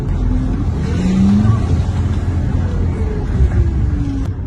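A car stuck on a village road during an evacuation revs hard, its engine pitch rising and falling as it strains without moving, alongside rough background noise.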